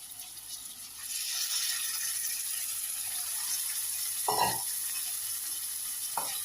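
Chicken pieces frying in a pan for a chicken and banana flower dish, a steady close sizzle with a couple of brief clatters of stirring or utensil knocks, no talk.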